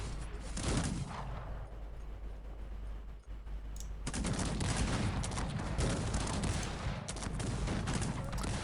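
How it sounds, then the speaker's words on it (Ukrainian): Artillery fire in the strategy game Cossacks 3, a dense continuous roar of overlapping blasts and battle noise, loud throughout with a brief dip before a heavier sustained barrage. "Працює арта."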